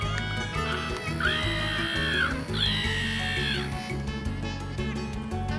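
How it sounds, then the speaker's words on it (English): Shrill, wavering electronic screams rise and fall twice from the ZAP! handheld game as the player dies. They sit over a pulsing low electronic drone, with no talk. "There's screams coming out of the distance."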